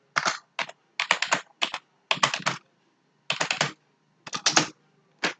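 Fast bursts of typing on a computer keyboard entering commands, crisp close key clicks in quick clusters separated by short pauses, with no talk.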